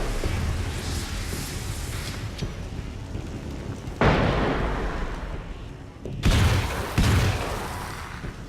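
Combat shotgun firing in the video game Alan Wake's American Nightmare: a few loud, booming blasts spaced a second or two apart, with a rumbling noisy background between shots.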